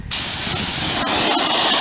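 High-pressure water spray hosing down a surface to wash dirt off, a steady loud hissing rush that starts abruptly and continues without pause, no talking.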